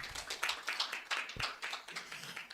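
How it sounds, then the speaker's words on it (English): A conference audience claps in a steady, dense patter of many hands, moderately quiet and somewhat distant, with no talk over it. "Another round of applause for"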